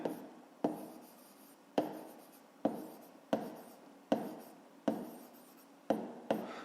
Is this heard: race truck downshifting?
no